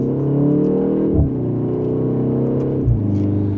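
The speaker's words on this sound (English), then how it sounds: "And a mild acceleration" A 2025 BMW M235 xDrive Gran Coupe in sport mode, second gear, accelerates with a loud, steady engine drone from inside the cabin, its pitch dipping briefly twice as gears change.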